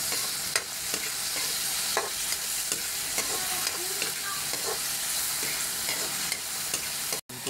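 Tomatoes fry in a pan for bagoong alamang, with a dense, continuous sizzle and repeated scraping strokes of a spoon stirring them close up, steady throughout with a brief cutout near the end.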